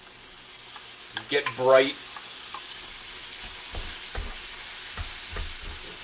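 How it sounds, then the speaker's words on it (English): A close, steady sizzle of fresh corn and bacon frying in a pan, with a brief spoken phrase and some stirring clatter early on. "Hear it sizzling."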